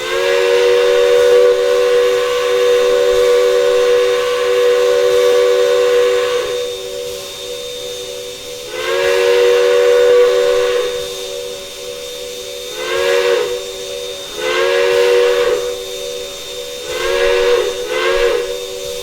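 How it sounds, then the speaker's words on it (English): Steam whistle of a Western Pacific 4-6-6-4 locomotive in the Trainz 2019 train simulator, sounding a long blast and then several shorter blasts with steady steam hiss between them. "Of course, whistle."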